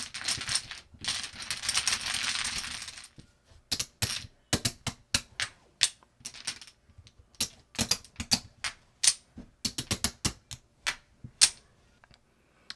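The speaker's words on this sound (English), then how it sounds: "let's shuffle your tiles." Hard pai gow tiles clatter and click together during shuffling, first in a dense rattling burst, then in a quick irregular series of sharp knocks, close by.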